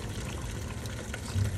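Hot water pouring steadily into a child's bath, a soft continuous low splashing stream that swells slightly near the end, with no talking over it.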